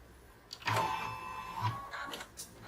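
Embroidery sewing machine stitching out a mug rug, quiet mechanical whirring bursts with a short run of motor hum and light clicks, faint and close by.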